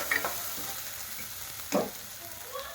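Potatoes and a bay leaf fry in oil with cumin in a pan, a low steady sizzle punctuated by two or three scraping stirs of a spatula, the strongest about midway, with no talking.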